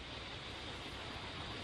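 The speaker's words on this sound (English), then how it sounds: "this goddamn beautiful hiss" Steady, faint broadband radio hiss from cosmic background radiation, an even static wash with no rhythm or voices.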